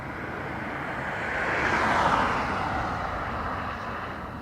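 A KLM airliner passes at Dublin Airport, a broad, steady jet roar that swells to a peak midway and slowly fades, heard alone at moderate distance.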